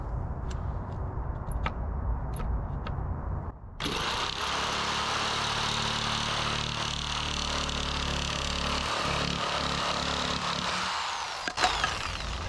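A power tool, likely a saw, starts up abruptly and cuts a corner off a wooden bed platform, a loud sustained whine and grind lasting several seconds, then winds down to quiet with a few clacks.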